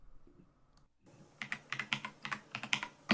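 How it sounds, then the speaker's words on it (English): Typing test on a mechanical computer keyboard: a quiet pause, then a brisk run of crisp, close key clicks and thocks in an uneven rhythm, with no voice. "we'll do a quick typing test here in just a second to let you know what these sound like"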